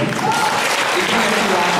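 Audience applause during a spoken Hindi talk: a dense, steady wash of clapping that fills the whole short stretch at fairly close range, without pauses.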